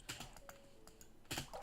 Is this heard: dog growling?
no